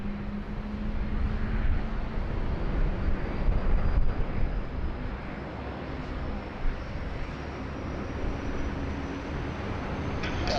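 Airliners with CF6 engines pushing back at Sydney Airport in heavy rain and wind, a broad steady jet roar with a low hum and a faint rising whine, distant and continuous with no talk.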